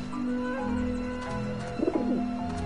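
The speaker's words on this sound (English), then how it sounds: "Run, you pigeons!" Pigeons coo in the Grim Fandango Remastered video game, steady soft murmuring calls close by with a brief fluttering burst near the end.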